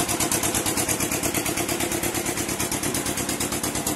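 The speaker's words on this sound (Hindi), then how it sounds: "देखिए भाइयों, एक बार आवाज़ और सुनवा दे आपको ट्रैक्टर।" A 2018 Mahindra 575 tractor's diesel engine runs steadily close by, its rapid, even chugging throb loud and unbroken with no voices over it.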